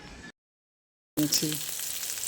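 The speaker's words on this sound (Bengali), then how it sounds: "এবার ঘি তেলের মধ্যে পেঁয়াজটাকে এইভাবে একটু সতে করে নিচ্ছি" Sliced onion sautés in ghee and oil with a steady hiss and crackle, broken by a short stretch of silence, under a faint stirring sound.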